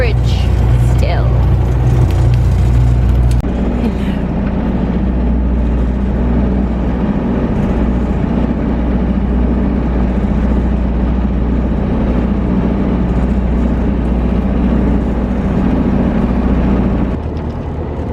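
A sailboat motoring under engine power gives a steady, continuous mid-low drone with a constant hum and wash, loud and close throughout, fading slightly at the very end.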